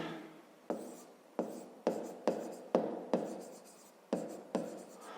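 Handwriting on paper during a fifth-grade maths lesson, heard as close, scratchy pen strokes in repeated bursts of about half a second separated by brief pauses.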